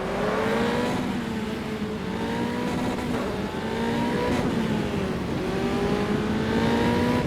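Race car engines drone together on a formation lap in a racing video game at Adelaide, a dense, continuous roar with pitch rising and falling as the cars rev and shift, loud and close with no voices.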